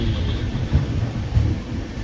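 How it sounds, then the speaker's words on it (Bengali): A passenger train running from Kolkata to Puri near Balasore station, heard as a steady low rumble with soft rhythmic thumps from the carriages and no voices. "আমাদের ট্রেন কিন্তু বালাসর স্টেশনে এসেছিলো"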